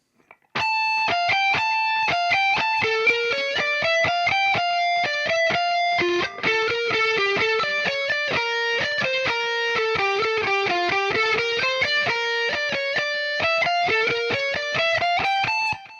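Distorted electric lead guitar playing the full minor chorus slowly, a continuous stream of evenly picked sustained notes stepping up and down, close and loud, alone without talk.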